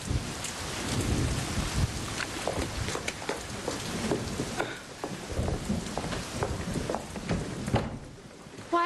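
Steady rain pattering on surfaces with low rumbles of thunder rolling underneath, continuous throughout and fairly close.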